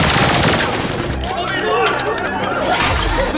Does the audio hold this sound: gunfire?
yes